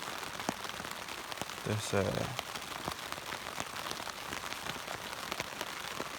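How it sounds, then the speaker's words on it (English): Steady rain patters on a surface at a wild camp, a dense even hiss of drops close by, and a brief spoken word cuts through it once. "It looks like it's going to be raining a while."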